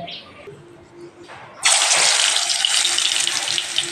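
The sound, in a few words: frying green banana kofta balls in hot oil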